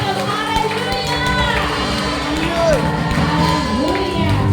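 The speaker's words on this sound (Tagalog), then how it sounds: "With a shout of hallelujah!" A church congregation shouts and cheers in praise, a loud continuous crowd roar with whoops and some clapping, voices rising and falling together throughout.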